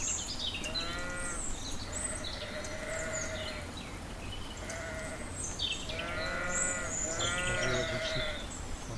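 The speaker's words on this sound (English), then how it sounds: "Maybe the sheep sound effect." Several sheep bleat in wavering cries, some overlapping, over a constant outdoor background with chirping birds.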